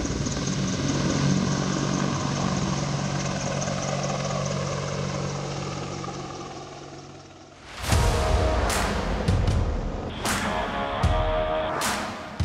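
An Apache helicopter from the South Carolina National Guard drones overhead as a steady, loud engine and rotor roar, then breaks into sharper close bursts of noise toward the end.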